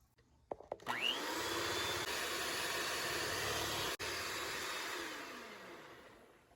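Electric hand mixer beating cake batter with coconut milk for a flourless, gluten-free coconut cake: the motor whirs up after a brief clatter, holds a steady high whine for several seconds, then winds down.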